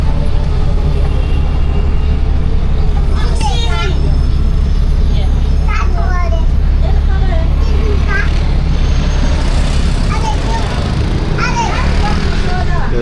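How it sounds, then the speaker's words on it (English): Bus travelling along a little-used road in Burkina Faso, a steady low engine and road rumble running throughout, with voices talking over it. "So the bus is moving now."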